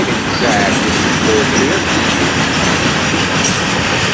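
A long FEC freight train of gondolas and hopper cars rolls past close by, a loud continuous rumble with rhythmic wheel clatter and brief faint squeals, steady throughout.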